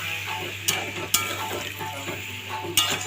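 Snake gourd and potato sizzle with spices in a hot pan, a steady close frying crackle broken by a few sharp utensil clicks against the pan.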